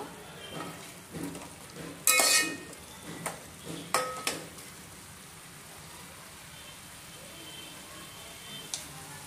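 Chicken seasoned with red chilli powder cooks in a pan for a Lucknow-style biryani, with a low sizzle under it and a spoon scraping and clanking against the pan in irregular bursts that fade to quiet stirring.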